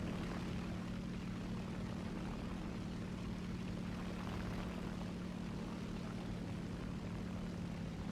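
Steady engine drone of a C.200 Saetta fighter plane diving in a flight combat video game, a constant propeller roar with rushing air, even and unbroken with no talk.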